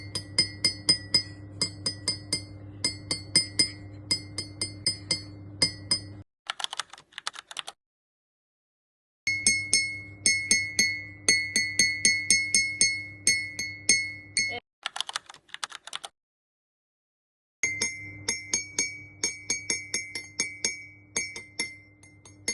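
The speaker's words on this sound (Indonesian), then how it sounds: "di sini kita menggunakan sendok untuk menguji bunyi yang keluar dari setiap gelas" A spoon strikes three drinking glasses in quick runs of bright, ringing clinks, with sustained tones lingering between taps, broken by short pauses and brief clattering.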